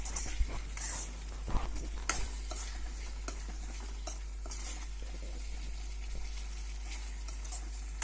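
Garlic kuzhambu with chili powder sizzles in a pan as it is stirred, a constant frying hiss punctuated by a few louder scrapes and knocks early on, no voices.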